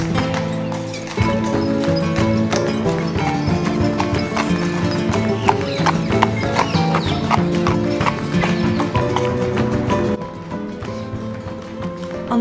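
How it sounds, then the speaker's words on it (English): Horse-drawn carriage hooves clip-clop steadily on pavement in Maria Luisa Park, Seville, a clear, rapid rhythmic clatter close by, with a horse whinny, continuing throughout. "There are various horse-drawn carriages available which offer trips through the park."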